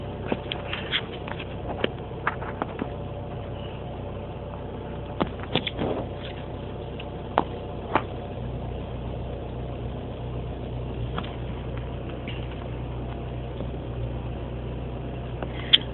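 A 2007 Mini Cooper S idles down in a garage after a cold start, giving a steady low engine drone with scattered small clicks and ticks over it, no talking.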